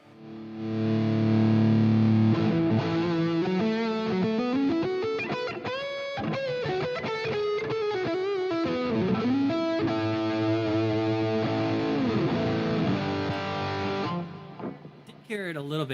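Electric guitar played through a Fractal FM3 amp modeler on a distortion preset, a heavily driven melodic line with bends and held notes, loud and continuous for most of the passage before it trails off.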